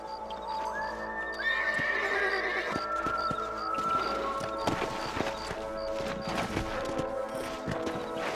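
Horses in the video game Red Dead Redemption, played on Xbox 360. A horse gives a clear whinny, then hooves clip-clop at a quick, galloping rhythm under a music bed, loud and close.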